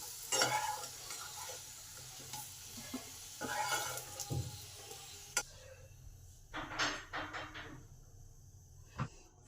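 Potatoes, about 80% boiled and then fried, are lifted out of a pan of oil: a steady low sizzle runs under scattered scraping and clinking of a utensil against the pan, with a few sharp knocks, close by and with no talk.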